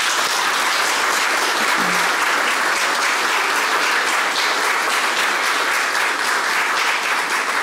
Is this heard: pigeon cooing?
no